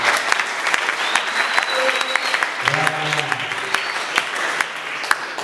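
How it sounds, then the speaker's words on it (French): Audience applauding at a training session, sustained dense clapping with scattered sharp claps, while voices talk over it and a brief tonal sound rises partway through. "applaudissez pour lui, ne soyez pas jaloux"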